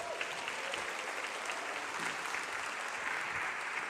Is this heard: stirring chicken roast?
no